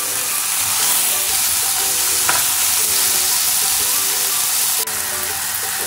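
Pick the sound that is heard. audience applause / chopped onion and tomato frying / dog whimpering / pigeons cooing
chopped onion and tomato frying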